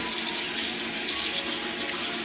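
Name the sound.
washing perilla leaves under running tap water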